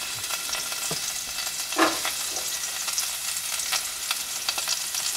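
Garlic frying in olive oil crackles and sizzles steadily, with a few sharp pops and a spoon stirring now and then, and no voices over it.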